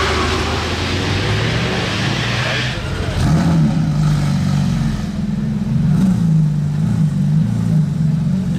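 A car with a non-stock exhaust and carbon tips pulls away, its engine rising into a loud, steady drone.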